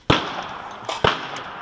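Rifle shots at an outdoor shooting range, two sharp loud reports about a second apart with a fainter crack between, each followed by a brief echoing decay.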